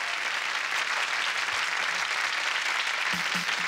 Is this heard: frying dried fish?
no